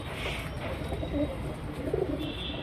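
A male Surmi pigeon gives soft, low cooing close by, against a steady background murmur.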